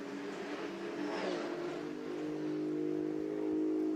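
A GT2 European Series race car's V8 engine at Spa during qualifying drones steadily in a low, sustained roar that swells slightly, heard at some distance with no voices over it.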